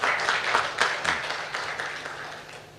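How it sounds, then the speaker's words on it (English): Audience applause at a CIO breakfast meeting, a steady wash of clapping hands at moderate level that stays fairly even and tapers slightly toward the end, with no voices on top. "they really need a big hand clap for this"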